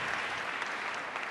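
Steady, dense audience applause for panelists at a university conference panel on girls and women, a continuous even wash of many hands with no voices over it.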